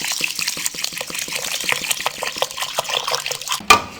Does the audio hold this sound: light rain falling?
no